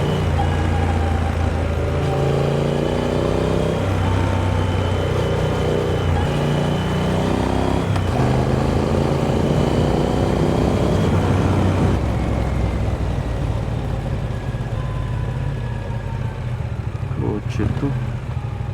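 A car drives along a road at night, its engine hum rising and shifting while motorcycle wind noise roars close and continuous over everything.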